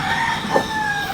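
Rooster crowing among chickens on a Filipino backyard farm, a single mid-distance crow rising briefly over steady ambient noise.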